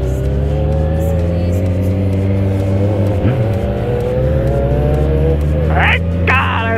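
A Yamaha XJ6 motorcycle engine runs close by with a loud, steady droning growl that swells slightly as it revs. Voices are heard over the engine.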